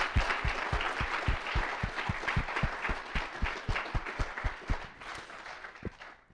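Round of applause from a college entrepreneurship seminar audience, a fairly small group whose claps come through as distinct, rhythmic individual hits before trailing off.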